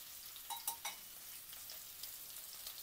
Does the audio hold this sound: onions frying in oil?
yes